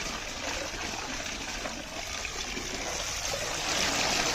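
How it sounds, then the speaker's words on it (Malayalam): Fresh cold tap water streams steadily over elephant nettle leaves being rinsed after their hot water is drained, a close, continuous trickling wash that swells slightly toward the end. "ഇതെന്നിട്ട് നല്ല വെള്ളത്തിൽ ഒന്നോടെ കഴുകിയെടുക്കാം ചൂടുവെള്ളം മാറ്റിയിട്ട് ഇത് പച്ചവെള്ളമാണ്"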